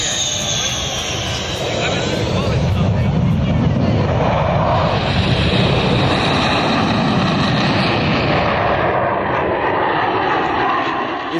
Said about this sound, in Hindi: रफाल नामक नवीन आयातित हमलावर विमान को उतार दिया गया।